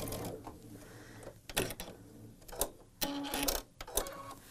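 A sewing machine runs in short bursts stitching quilt pieces along a quarter-inch seam, whirring mechanically in stops and starts, close and moderately quiet.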